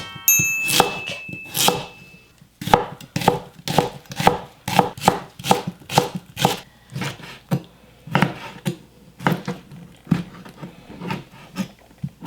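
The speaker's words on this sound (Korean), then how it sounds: "두툼두툼하게 썰을 거야." A knife chops squid into thick pieces on a cutting board, a long series of sharp, separate thuds in an uneven rhythm, close and clear with no talking.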